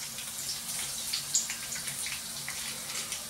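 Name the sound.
tap water running while washing hands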